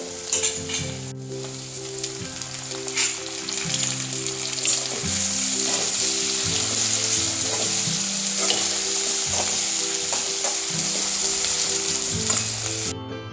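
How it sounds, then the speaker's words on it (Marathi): Onion and tomato frying in a pan for kanda poha: a loud, steady sizzle runs throughout, with a musical backdrop underneath and no talking. "मस्त असा कांदा चांगला परतून घेतला ना, नंतर त्याच्यामध्ये आपण टाकतो टोमॅटो"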